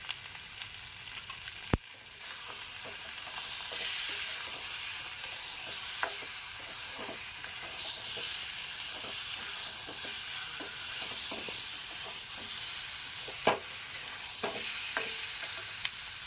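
Spices with sugar, turmeric, chilli powder and salt sauté in a pan for a mustard egg curry, making a continuous hissing sizzle with scattered stirring scrapes and a couple of sharp knocks, close and without voices.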